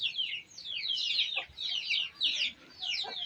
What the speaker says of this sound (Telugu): వణుకు పట్టినాయి మొత్తం కోడి పిల్లలు.